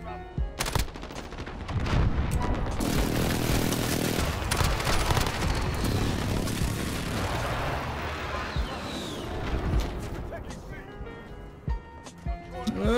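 Rapid automatic gunfire from a RAM-7 rifle in Call of Duty: Modern Warfare multiplayer, with dense bursts and scattered single shots over about ten seconds and a player talking over the shooting.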